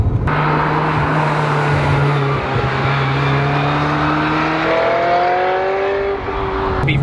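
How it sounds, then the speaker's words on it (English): Bright yellow Ferrari 355 convertible with its V8 engine revving loudly and close, a steady high-pitched roar that climbs in pitch over several seconds without any talk. "It'd be rude not to at least give it a little rev, right?"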